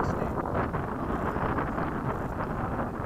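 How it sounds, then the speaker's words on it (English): Strong wind blows at an outdoor RC jet flying field, a dense steady roar of gusts buffeting the microphone with no clear voices. "Whoa, now the wind's coming out of the west."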